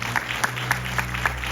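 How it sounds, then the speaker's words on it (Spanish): Applause from a church congregation during a sermon by pastor Juan Canela, a brief steady patter of clapping with a low hum beneath it. "Un aplauso a Dios."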